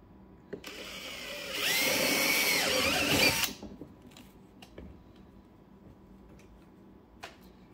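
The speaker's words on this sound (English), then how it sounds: "Drill all the way through." A power drill with a 1/4 inch bit whines loudly for about two seconds drilling through a plastic Milwaukee Packout crate, then stops, followed by faint clicks and handling noises.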